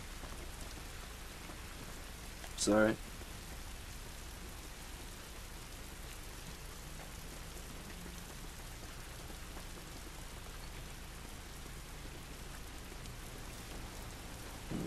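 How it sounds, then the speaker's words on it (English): Steady rainfall in the video game The Last of Us, a constant dense patter that fills the whole scene, broken by one brief spoken word early on. "This rain is beautiful, visually stunning."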